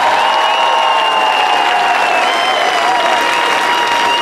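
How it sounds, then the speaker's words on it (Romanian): Loud, steady applause from a crowd at a Romanian folk music festival for a family and musicians from Chișinău, dense clapping with faint tonal sounds lingering underneath throughout. "Aplauze pentru familia Bodgros și lăutarii de la Chișinău!"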